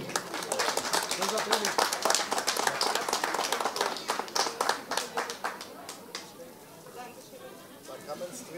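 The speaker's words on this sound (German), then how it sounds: "Alle, Applaus für die vier." Crowd at a German town stage event applauding four prize winners, loud dense clapping that thins into scattered claps, with voices talking over it.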